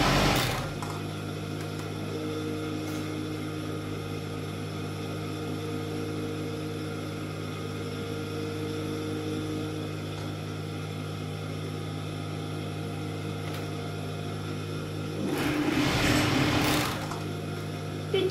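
Sewing machine running steadily while stitching the cuff of a simple tunic sleeve, a continuous close whirring hum that swells louder near the end.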